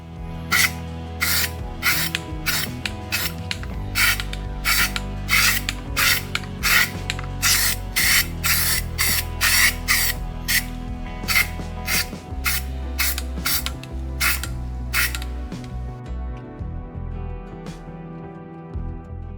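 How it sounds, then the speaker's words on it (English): Bursts of aerosol truck bed coating being sprayed onto car trim pieces for a 2002 Ford Mustang, short hissing blasts repeating in quick rhythm, close and loud, with no talking. "Spray these trim pieces."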